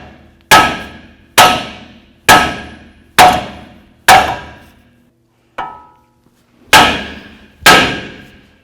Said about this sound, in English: I'm going to take my hammer again, and I'm going to come right down here, and we're going to hit right on the knuckle itself